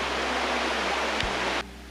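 Continuous rushing water noise of a river beside the GR 20 hiking trail, broad and steady, cutting out abruptly near the end.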